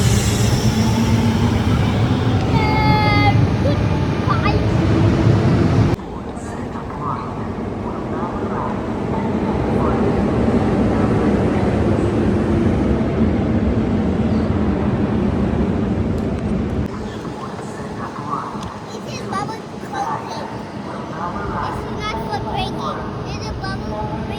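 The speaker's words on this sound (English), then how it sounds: "ये भी और एक ट्रेन है पोर्चुगल का ओवरग्राउंड।" A Lisbon overground train in Portugal, heard at a fourth-floor station, gives a steady rumbling roar that shifts in level partway through, with a voice and other people talking over it.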